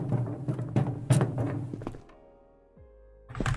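Sci-fi metal footstep sound effects in an Unreal Engine 5 survival horror game, a quick run of heavy clanking thunks followed by a short lull of low hum before another footfall, close and fairly loud.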